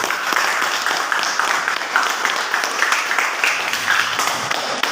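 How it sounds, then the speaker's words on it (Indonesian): A class of students applauds during a physics lesson, a steady, dense patter of many hands clapping together at moderate distance for the whole stretch, with no voices rising above it. "Tepuk tangan dulu."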